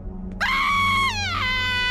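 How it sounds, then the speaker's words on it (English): A cartoon character lets out a loud, sustained high-pitched scream that rises sharply, holds, then slides downward, heard close and alone. "As soon as I finish screaming."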